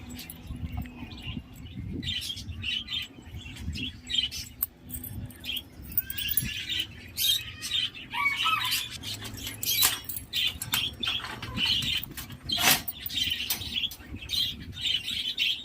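Birds in a backyard aviary give scattered chirps and tweets over a low background, mixed with bursts of flapping wings and rustling at moderate distance.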